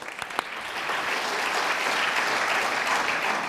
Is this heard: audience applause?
yes